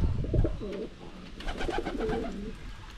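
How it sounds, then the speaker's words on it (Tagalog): Low, throaty pigeon coos repeat close by, a soft rolling rhythm with faint rustling and a murmur of voice in the background. "At yung mga kalapati natin dito"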